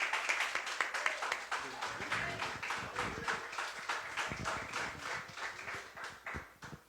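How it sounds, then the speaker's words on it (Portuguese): A church congregation claps during a Portuguese-language service, a few dozen hands giving uneven, sharp individual claps that settle into a loose rhythm, fairly quiet and roomy. "Aplauda o Senhor."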